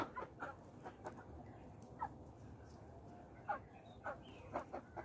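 Black frizzle-feathered chickens, roosters and hens, clucking softly in a backyard flock, with scattered faint clucks and short calls over a low, steady background hum.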